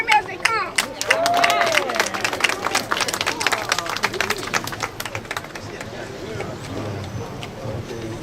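A crowd at Hernando Central High School claps in a dense burst of applause with scattered whoops and cheers, gradually thinning into lighter clapping and murmuring.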